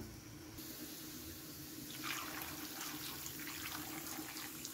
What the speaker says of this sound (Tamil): இப்போ வந்து காய் முங்குற அளவுக்கு தண்ணி ஊற்றி வச்சிடலாம்